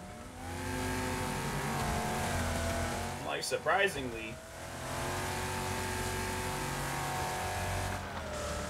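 A damaged race car in Wreckfest drones steadily at a constant engine pitch, with a sharp burst of revving and a rising-falling whine midway, while a player talks over it.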